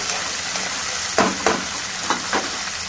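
Tomato, onion, curry leaves and ginger garlic paste sizzle and fry in a pan for a drumstick and green pea curry, with a steady hiss and a few louder stirring bursts, close and without speech.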